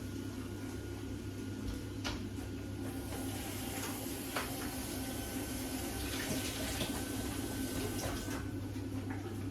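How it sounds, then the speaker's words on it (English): Tap water runs into a kitchen sink while a container used for raw chicken is rinsed out, a steady close splashing flow with a few light knocks and no talk. "Just rinse out the container before putting it away and try not to let it splash anywhere"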